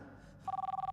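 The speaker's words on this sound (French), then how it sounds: "Ça sonne le téléphone" A telephone bell starts ringing in rapid pulsing trills after a quiet moment, close and clear, with no talk over it.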